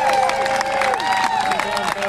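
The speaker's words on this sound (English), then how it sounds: "You can cheer and clap." Crowd at an outdoor free speech demonstration clapping and cheering, a short burst of claps and shouting voices, fairly loud and close, mixed with raised speech.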